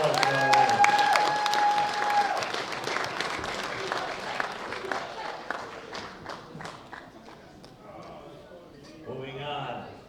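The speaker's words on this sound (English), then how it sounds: "Ladies and gentlemen, big round of applause for our winners." Audience applause for the junior men's winners at the World Bench Press Championships, loud at first and thinning out over ten seconds, with someone talking over the clapping.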